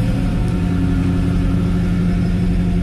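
Project car Dracula's engine idles after cranking, a steady loud low rumble with a slightly uneven, lumpy pulse held throughout.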